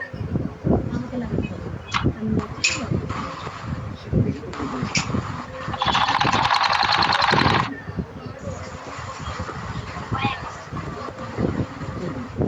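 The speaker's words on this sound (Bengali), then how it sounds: "এই মাথা থেকে সেলাই করবে এখন" A sewing machine stitches fabric in one short, loud, rapid run of about two seconds, with people talking before and after it.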